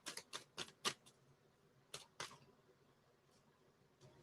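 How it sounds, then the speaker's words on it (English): Tarot cards being shuffled by hand come as quick, crisp riffling bursts, a cluster of four close together, then two more after a pause, with faint rustles trailing off, nearby and quiet. "Shuffle these cards."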